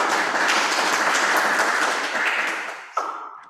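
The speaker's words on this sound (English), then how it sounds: "please give another big round of applause to our moderator and keynote speakers" A conference audience applauds the moderator and keynote speakers at an international educational management and technology event in Indonesia, a dense wash of clapping that tapers off, then a single louder clap and a brief fading tail near the end.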